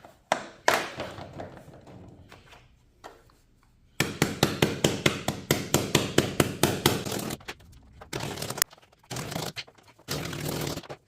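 Husky interlocking plastic garage floor tiles being installed, a run of sharp, rhythmic knocks and taps as the pieces are struck together, coming in bursts with short quiet gaps between them, close and loud.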